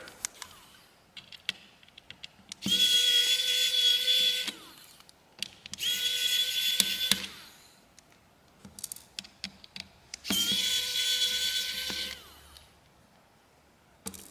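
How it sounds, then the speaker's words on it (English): A powered screwdriver removes small screws from a Hot Pepper Cascabel (HPPH88C) phone during a teardown. Three steady whirring bursts run close by, separated by light clicks and handling taps. "So we have 1, 2, 3, 4 more screws. Let's get those out real quick."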